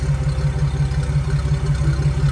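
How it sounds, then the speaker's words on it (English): A Willys Jeep CJ-2A engine idles with a deep, steady exhaust rumble, a low throbbing pulse that holds constant throughout with no talking. "You want to hear your exhaust, but you don't really want everybody else to hear it."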